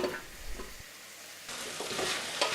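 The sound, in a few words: onion and potato frying in melted butter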